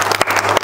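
Audience applause at a political rally, a steady dense patter of many hands clapping close and fairly loud through the short moment, with no talk over it.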